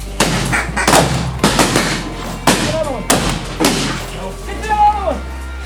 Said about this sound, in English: Shoot that one, Cole.